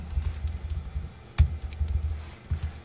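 Light typing on a computer keyboard, soft clustered key taps close by with one sharper, louder keystroke near the middle like an enter press.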